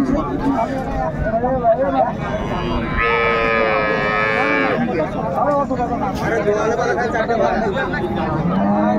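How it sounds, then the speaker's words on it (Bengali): A Sahiwal cow with her calf moos in a long, drawn-out call at a busy Raniganj cattle market, heard over constant crowd chatter and bargaining voices. "শাহিওয়াল গাভী বাছুর আমরা দেখছিলাম এখানে, দামাদামিটা চলছে।"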